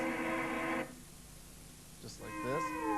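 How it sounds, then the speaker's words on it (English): Dry guitar loop in an ambient looping setup: a sustained harmonic chord tone that cuts off abruptly, a quiet gap, then a few gliding, bending notes rising back in, moderately faint. "the dry loop sounding like this"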